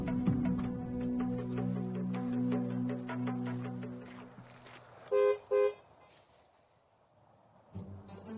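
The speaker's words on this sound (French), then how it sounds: "Sandrine, au son d'un klaxon, vous vous réveillerez doucement." A car horn honks twice in quick succession, two short loud blasts after a stretch of sustained musical tones, followed by quieter low sounds.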